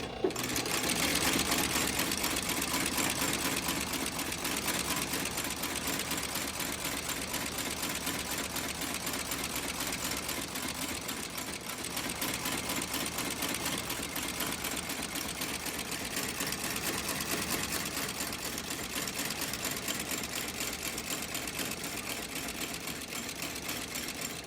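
A boot welt stitching machine runs steadily on a double-stitched cowboy boot resole, a dense, even mechanical chatter that holds without pause from start to finish, close and alone with no voices.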